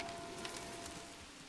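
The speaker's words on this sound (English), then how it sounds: "It is now raining." Rain falls in the video game Manor Lords, a soft, steady hiss of drops pattering on surfaces, continuous and fairly quiet with no other distinct sounds.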